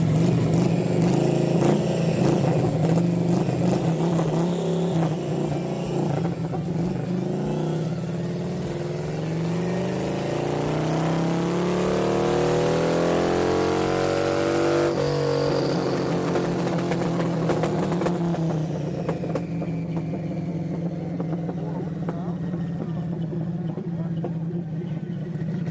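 An Orange County Chopper motorcycle engine runs steadily on aviation gasoline, a continuous low rumble that holds throughout with a brief swell midway, while people talk over it.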